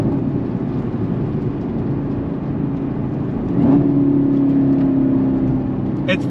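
A 2021 Chevrolet Camaro ZL1 1LE's supercharged engine hums at a steady idle, then swells into a brief louder rev with a rising whine before settling back to a low burble.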